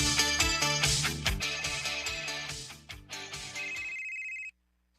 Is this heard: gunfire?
no